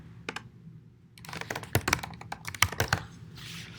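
Quick, close clicks of fingers typing a command on a computer keyboard, a few isolated taps and then a denser run of irregular keystrokes, with no voice over them.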